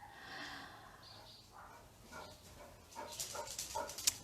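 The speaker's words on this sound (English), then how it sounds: "My dog is getting a little crazy over there with something going on." A dog indoors gives soft snorts and whimpering huffs, then a burst of sharper barks and snuffling, moderately close but not very loud.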